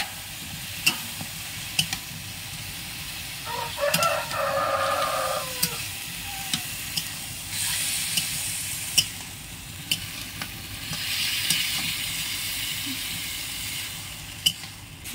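Ginger, cumin and garlic paste frying with onions over a clay stove for a country chicken curry: steady sizzling with scraping stirs and scattered ticks, a brighter burst near the start, fairly close and without talk.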